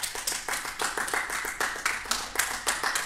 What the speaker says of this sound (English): BJ, I think we could clap while we're waiting for the music.